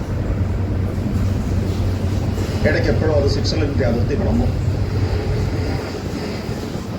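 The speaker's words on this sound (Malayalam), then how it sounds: "ആളൊഴിഞ്ഞ ബോഗികളുമായിട്ട് ട്രെയിൻ അതിൻ്റെ രാത്രി യാത്ര തുടർന്നുകൊണ്ടേയിരിക്കുകയാണ്." A night train in Italy rumbles along at a steady pace with a constant low mechanical drone while someone speaks over it.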